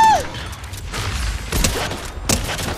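Video game gunfire with a few heavy, distant-sounding shots and thuds spread across the clip, mixed with low rumbling booms.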